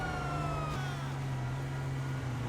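A police car siren in GTA 5 wails as a steady, loud electronic tone with a swept pitch that holds across the moment. Heavy game background sound lies underneath and no one speaks.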